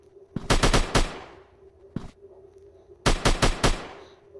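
Gunshots in a survival hunter video game ring out in two rapid bursts of four or five shots each, with a lone shot between them. All are loud, sharp and reverberant, with no talking.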